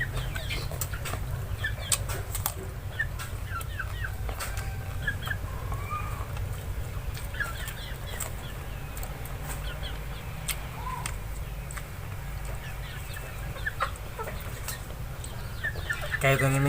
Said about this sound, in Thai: ไก่ตัวนี้ไม่อยากกินนะทุกคนเนาะ